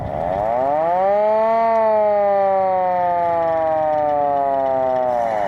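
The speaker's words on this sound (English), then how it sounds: "And then this siren. We do have a siren." A hand-cranked siren on a 1913 Model T fire chief's car winds up to a loud sustained wail, holds, then slowly drops in pitch before rising again at the end.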